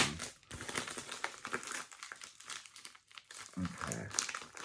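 A package being opened slowly by hand gives close, continuous crinkling and crumpling of wrapping with occasional tearing, moderately loud and steady, with no talk over it.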